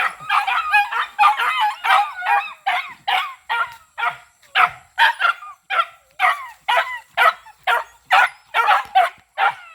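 Several dogs barking noisily outdoors near a lansones orchard, a rapid, continuous string of loud, close yips and barks with whimpery tones mixed in.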